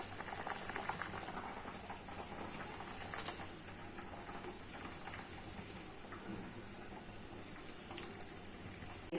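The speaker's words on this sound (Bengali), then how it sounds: "কি ঝোলটা ফুটে গেছে মনে হয়, হ্যাঁ ফুটে গেছে।" Fish curry gravy with fried eggplant simmers at a rolling boil in a pot, a soft continuous bubbling and light spitting, fairly quiet and close, no one speaking.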